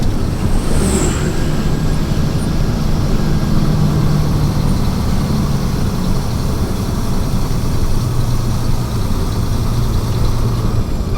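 An older Mitsubishi Fuso truck with a 6D22 diesel engine drives on a steady, loud low rumble, with continuous road and engine noise and no talk.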